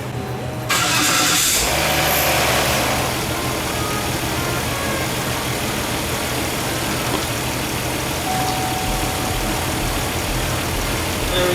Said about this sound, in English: we're going to want to start the vehicle